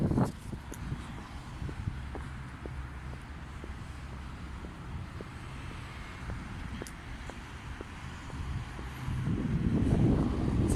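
Strong wind blows outdoors in a steady, rushing roar with low rumbling buffets against the microphone, swelling louder toward the end, with faint ticking in the background.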